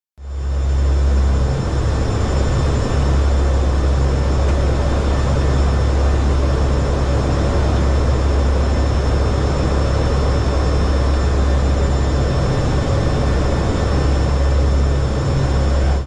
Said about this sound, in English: That's an aircraft flown by NOAA and the U.S. Air Force, and as I'm sure you guessed already, they are flying inside the eye of Hurricane Erin.